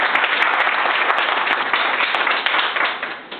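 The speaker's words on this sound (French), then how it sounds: "Et applaudissez encore pour les souffles" Steady, dense audience applause fills a hall for a few seconds, loud and continuous, tapering slightly at the end, with no voices over it.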